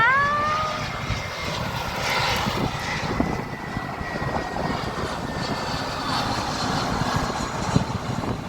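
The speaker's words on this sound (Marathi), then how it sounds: "तो आला. प्लेन बघ प्लेन बघ." A steady airplane engine roar fills the scene as a plane passes low coming in to land, broad and sustained, with a faint whine fading early on; no talking over it.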